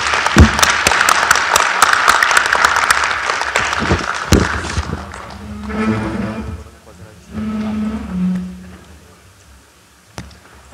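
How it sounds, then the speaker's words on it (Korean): Audience applause at a university association's annual general meeting closes a talk with a Deputy Prime Minister, dense clapping for about five seconds before fading into quieter room noise and a few scattered claps. "부총리님께 다시 한번 감사의 박수를 화답을 하겠습니다"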